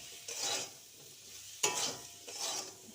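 Potato and cauliflower frying with salt and turmeric in a pan, soft hissing sizzle with a few distinct scraping stirs and one sharp clink, close and fairly quiet.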